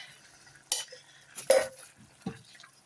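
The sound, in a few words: stirring taco soup in a pot after adding chopped tomatoes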